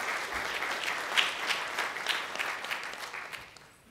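An audience at a networking conference talk gives a steady round of applause, dense clapping that holds evenly and then fades out toward the end.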